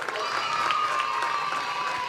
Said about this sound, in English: nice round of applause for Bryce Frederick